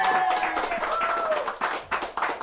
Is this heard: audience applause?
yes